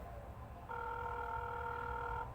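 A telephone rings once during a demonstration call, a steady electronic tone that starts after a brief pause and holds for about a second and a half over a low background hum, quiet and alone.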